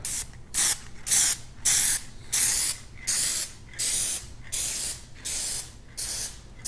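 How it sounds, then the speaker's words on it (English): Short repeated bursts from a nearly empty can of Plasti Dip rubber coating spray, about ten sputtering hisses in a steady rhythm with brief gaps, close and fairly loud, no voices. "So see how far we get with the emptiest can of plastidip in America."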